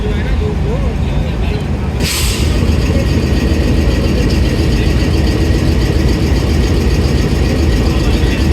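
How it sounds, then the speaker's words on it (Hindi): Screw coupling on a Green Line locomotive at Lahore Junction being joined: a sharp metallic clank, then ratcheting mechanical clatter over a steady rumbling engine idle, with someone speaking nearby. "सबसे पहले स्क्रू कपलिंग को जोड़ा जाएगा।"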